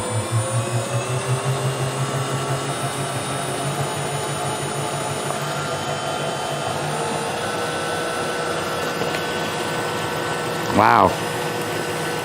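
An Italian ice machine making sugar-free raspberry ice, running at a higher speed with a steady loud motor whir and grinding hum, briefly pulsing at the start, while a voice speaks a short exclamation near the end.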